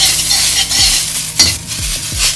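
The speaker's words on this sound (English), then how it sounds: "So I'll be frying it for a few minutes." Loud, steady sizzling of leaves frying in a pan, with a spoon scraping and stirring a few times, close up.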